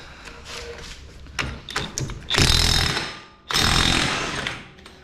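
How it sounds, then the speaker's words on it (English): A big impact wrench hammers on a 32 mm axle shaft nut on a Yamaha YXZ1000R, two loud sustained bursts of rattling impacts after a few short taps, close by. "So that's a pretty big nut on that axle shaft, so I'm gonna get the big impact."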